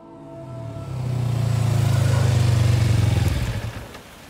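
A motorcycle rolls in and idles up close during heavy rain, its engine note swelling into a steady low rumble before it cuts off as the bike is parked.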